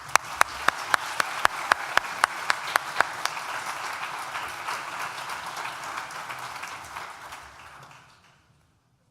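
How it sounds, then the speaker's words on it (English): Graduation ceremony audience applauding in a large hall, sustained clapping with a few sharp nearby claps early on, fading out toward the end into silence. "will you join me in a round of applause to thank all of those who may be sitting below you"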